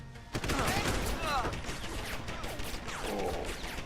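An automated turret in Deus Ex: Human Revolution fires a rapid, dense burst of gunfire that carries on for a few seconds, loud and continuous, with some voice mixed in.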